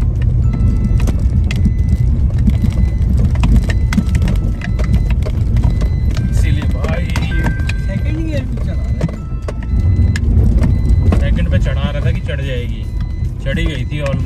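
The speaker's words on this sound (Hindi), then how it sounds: "सेकंड गियर पे डीजल गाड़ी में ज़्यादा टॉर्क आता है ना" A diesel car climbing a steep hill road in second gear on a mountain route in Uttarakhand, with a steady, loud engine drone filling the cabin and people talking over it throughout.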